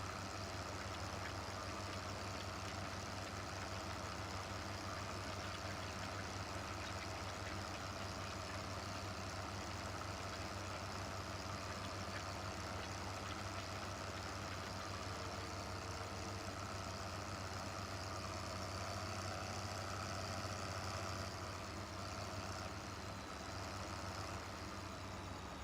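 Articulated tractor engine idling in Farming Simulator 15, a steady low drone with a constant hum and faint broadband noise running unchanged throughout, no talking.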